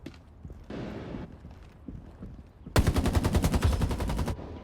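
Rapid gunfire bursts in the mobile shooter Area F2, a dense rattling volley that starts abruptly partway through and stays loud to near the end, preceded by quieter game ambience.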